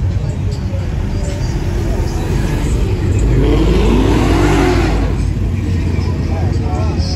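A Porsche at a Woodward Dream Cruise revs and accelerates, its engine note sweeping up loudly over crowd noise, with people talking close by.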